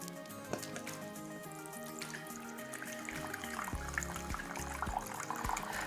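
Maker's Mark bourbon is poured into a measuring cup with a soft, continuous trickle and some small drips. The sound is quiet and close, over a faint humming background.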